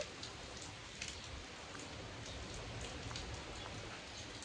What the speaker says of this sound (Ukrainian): Подивись, який дощик іде.